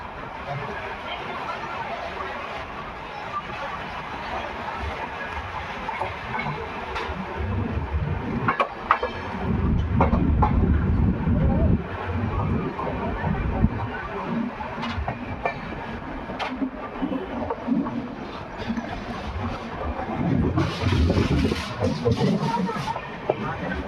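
Train 12182 Dayodaya Express pulls out of Kishangarh railway station after a two-minute stop, a continuous rumble of rolling carriages with rhythmic clatter that grows heavier midway, heard from on board.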